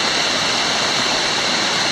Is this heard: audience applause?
no